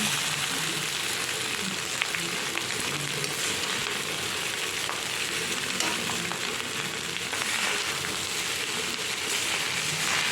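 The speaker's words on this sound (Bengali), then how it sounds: "একটু এরকম ভাজা হয়ে গেছে এবার আমি ভাতটা দিয়ে দিচ্ছি" Drained cooked rice fries in a pan that already holds browned ingredients. A continuous, fairly loud sizzle runs throughout with rustling stirring sounds underneath and no speech.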